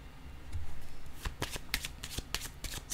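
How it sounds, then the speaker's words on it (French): Tarot cards are shuffled close up with quick riffling bursts, then cards are tapped and laid down on a surface, with no talking. "Je vais déposer une autre carte ici."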